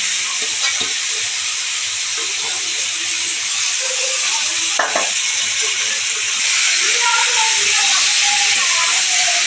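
Chicken pieces hit a pan of hot spices and fry with a steady, close hiss and sizzle. Faint stirring movements sound underneath, and the frying grows a little louder toward the end.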